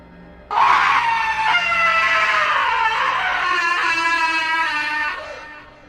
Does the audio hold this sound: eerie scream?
yes